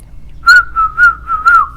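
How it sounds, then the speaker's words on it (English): A person whistles a short tune of about five bright, clear notes in an even rhythm, close and fairly loud against a quiet background. "Next thing is to whistle."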